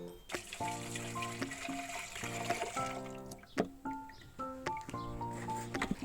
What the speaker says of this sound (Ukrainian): А тим часом суміш готова, і ми її зараз будемо переливати до баку.